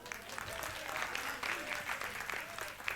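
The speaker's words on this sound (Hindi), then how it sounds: "तालियां।" Listeners at a spiritual retreat camp session in Pushkar, Rajasthan clap together, a moderate, steady spatter of many hands with a faint voice underneath.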